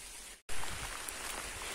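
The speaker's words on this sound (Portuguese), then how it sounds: "Como eu disse, tá chovendo bastante." Heavy rain hisses steadily outdoors, loud and dense, with one brief dropout before the downpour resumes without a break.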